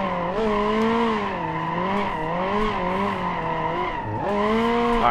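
A Toyota Corolla drifts in BeamNG.drive, its tires squealing in long wavering howls that bend up and down through slides, with engine tone underneath and a brief dip near the end.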